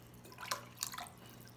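Warm water being poured for gluten-free arrowroot bread dough, a short close splash in two quick bursts of trickling and dripping over a quiet background, with no talking.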